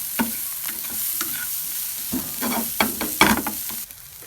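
Chickpeas frying for chana chaat while being stirred in a pan, with a soft continuous sizzle broken by repeated scraping, clattering stirring strokes at an uneven rhythm, close up.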